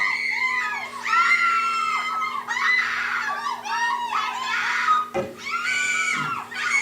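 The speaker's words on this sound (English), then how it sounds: "Okay, I guess we got enough screaming." A crowd of girls screams loudly and continuously in high-pitched voices, with a steady low hum underneath.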